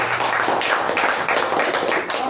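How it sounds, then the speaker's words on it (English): Applause from an audience at a meeting fills the room with close, uneven clapping, bright and dense, sustained for a couple of seconds. "a huge round of applause to all of us for making it happen"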